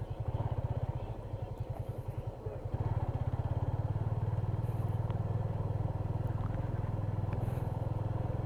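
A motorcycle rolling in to park at a jungle resort, its engine thumping at a steady close idle-like rhythm, briefly dipping then picking up again and running on continuously.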